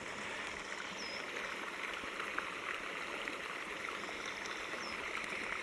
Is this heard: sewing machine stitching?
no